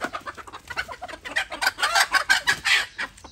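A hen clucks in a quick run of sharp, loud calls close by, the clucks growing denser and stronger toward the end.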